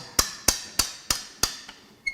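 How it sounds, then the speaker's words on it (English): Five sharp metallic hammer blows on a wrench to loosen a bolt on a flooded 1987 Mazda RX-7 Turbo II rotary engine, evenly spaced and close, plus a lighter tap and a final ring. "I like to shock it with a hammer and a wrench before I knock it with something else"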